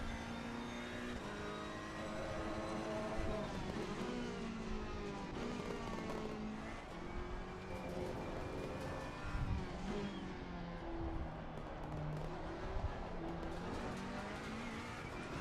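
Race cars in Assetto Corsa Competizione, a Ferrari and a Porsche among them, drone steadily with engines revving and shifting pitch as they battle close together, tyres squealing faintly throughout.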